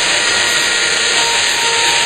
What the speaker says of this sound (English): Drill the concrete.